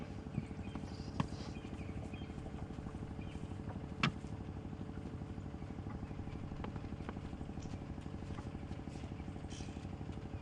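A safari vehicle engine idles with a steady low rumble throughout, with a couple of faint clicks and knocks on top.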